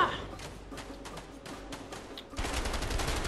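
Enemy gunfire in the video game A Way Out crackles as fairly faint, scattered bursts of rapid shots, followed by a louder, denser spell of firing near the end.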